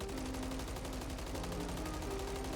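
Rapid sustained automatic fire from the MCW (ACR) assault rifle in Call of Duty MW3, a dense continuous burst of shots lasting the whole stretch, loud and close with steady rhythm and no talk.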